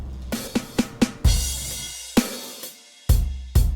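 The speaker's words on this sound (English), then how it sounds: "you get a very clean drum sound" A clean, undistorted drum pattern from a production session: several quick crisp hits, then booming kick strikes with short decays and clear gaps of silence between them.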